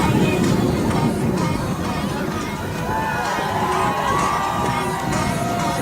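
A crowd lining a St. Patrick's Day parade route in Crosslake cheers and shouts, with children's voices in a dense, continuous roar of excited babble that stays loud throughout.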